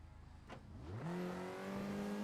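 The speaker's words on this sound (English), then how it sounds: "The revs rise," Race car engines at Laguna Seca rev hard at the start of a Skip Barber series race, a loud rising drone that climbs in pitch and then holds a steady high roar, close and continuous.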